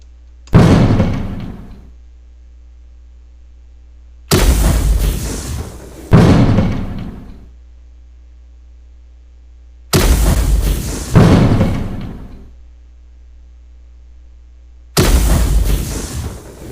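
Six sharp, booming gunshot effects in a pygame Battleship game fire at irregular intervals, each a loud burst that decays quickly into near silence before the next.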